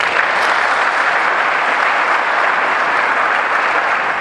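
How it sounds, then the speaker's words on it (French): A seated audience at a youth employability forum in Pointe-Noire breaks into sustained, dense applause, loud and even throughout with no voices on top. "Et je voudrais pour cela vous faire bénéficier d'une salve d'applaudissements."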